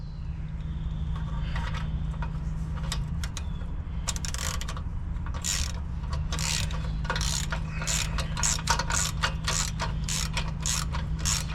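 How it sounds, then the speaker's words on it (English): A ratchet clicks in quickening bursts as it tightens down a repaired rear turbo mount, with steady mechanical background hum and faster ratcheting toward the end. "now we can start to tighten that down"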